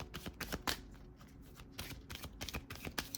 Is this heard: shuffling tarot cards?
yes